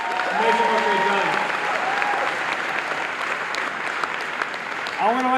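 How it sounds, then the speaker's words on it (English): Audience applause at a Boston Home Center CPA and mortgage announcement, steady and sustained across the room, with a few brief voice-like tones rising above it at the start and near the end. "give a round of applause to Maha"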